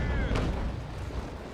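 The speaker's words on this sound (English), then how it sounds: "Let's fire the stern chasers." Stern chaser cannons fire aboard a sailing warship during a naval battle in the Naval Action game, a single deep booming report up front trailing into a long rumbling low wash.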